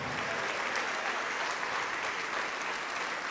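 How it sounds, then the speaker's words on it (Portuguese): A church congregation applauding, sustained even clapping from many hands that fills the room at a steady loudness with no talk on top. "Oh glória, vamos aplaudir mais, igreja."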